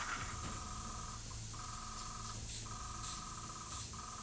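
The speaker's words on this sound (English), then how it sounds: "it just sounds like it's struggling to get through the airbrush" Airbrush spraying Vallejo paint at too low an air pressure of about 15 psi, giving a steady close hiss with sputtering, spattering bursts that cut in and out in an uneven rhythm.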